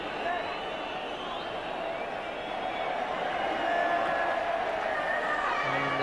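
Stadium crowd noise from a 1985-86 Everton versus Ipswich Town football match, a continuous dense roar that holds steady throughout, with commentary over it.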